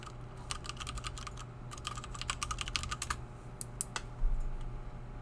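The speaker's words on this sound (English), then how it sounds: "I typoed, and so I hit backspace" Computer keyboard typing in a quiet room while working on a simple shell in Rust, with bursts of quick, crisp key clicks, a short pause, then a few more isolated taps including backspace presses, heard close and alone.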